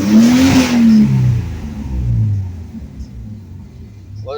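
A 1970 Ford Torino engine revs loud and close against an ignition cut, its rumbling tone rising then stuttering and fading as the limiter chops in, with no talk over it.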